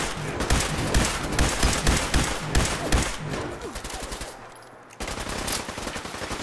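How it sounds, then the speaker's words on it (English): Rapid automatic gunfire in the video game Fallout 4, dense bursts of shots close and loud for several seconds, a brief lull, then another volley. "Oh, somebody's shooting at me."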